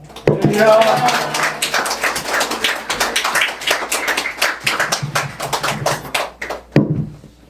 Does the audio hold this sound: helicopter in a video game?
no